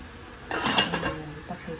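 A lid from a new cooking pot set is handled, giving a short clatter of metal against metal, heard close and fairly quiet, with a faint knock at the end.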